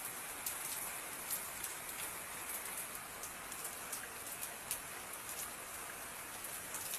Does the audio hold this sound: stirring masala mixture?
no